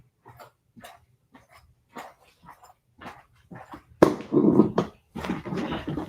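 A dog gives a string of small yips and whimpers, then breaks into a louder burst of barking close by.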